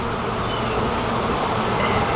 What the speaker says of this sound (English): that's a lot of bees